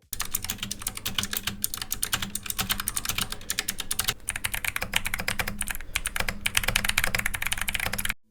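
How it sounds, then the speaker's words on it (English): Typing on a Razer keyboard with purple switches followed by a custom-built keyboard, dense rapid clacking keystrokes up close, the texture shifting partway through as the second board takes over, no talking. "Just listen to our Razer with purple switches compared to my custom build."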